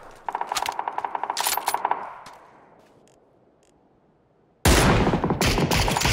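Rapid automatic gunfire from the video game PUBG crackles in quick bursts, then fades out before a sudden loud burst of noise cuts back in near the end.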